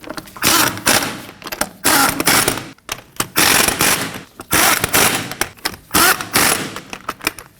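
A ratchet tightens the lug nuts on a 2015-2024 Ford Edge wheel in repeated bursts of rapid, close metallic clicking, separated by brief pauses. No voices.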